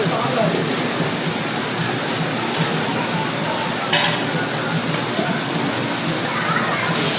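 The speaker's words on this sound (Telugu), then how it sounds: "అసలు ఎంత పడుతుంది చూడండి వాన" Dense, steady hiss of heavy rain in Colombia pouring without a break, close and loud, heard from inside a restaurant, with faint voices murmuring underneath.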